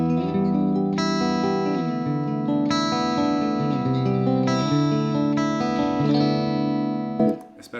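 Clean electric guitar on the neck single-coil pickup plays arpeggiated open chords, sustained notes ringing and overlapping in a steady flowing pattern, up close and alone, with a brief noisy scrape at the very end.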